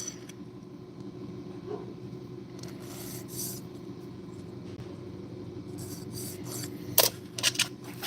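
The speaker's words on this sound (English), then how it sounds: "I gotta just take a swipe off with a file" A metal file rasps across freshly drilled metal parts to take off the drill burr, a low, steady scraping near at hand that ends in a few sharp clicks and scrapes.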